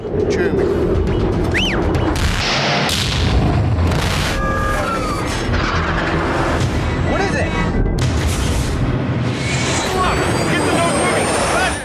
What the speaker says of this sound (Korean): 갑자기 날아오는 미사일에 긴급 회피에 돌입하는 전투기